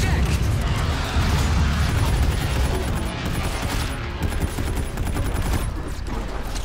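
Sustained automatic gunfire and blasts in a Call of Duty Infinite Warfare battle on Venus, loud and continuous with mechanical clatter, while voices talk over it.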